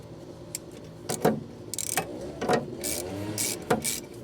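A tool works the V-band clamp screw on a GR Corolla downpipe, giving a series of close metallic ratcheting clicks and taps in an irregular rhythm against a faint background hum.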